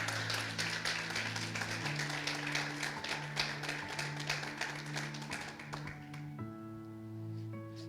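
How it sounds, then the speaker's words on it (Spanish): Rhythmic hand clapping fills a church-style evangelical gathering, steady sharp claps over sustained music tones that shift pitch, continuing evenly to the end. "Le damos un aplauso."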